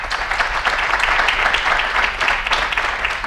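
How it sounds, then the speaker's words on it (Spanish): An audience at a presentation on environmental good-practice codes for livestock farming applauds, a dense, steady wash of many hands clapping at full strength for a few seconds with no voices over it. "el aplauso está merecido"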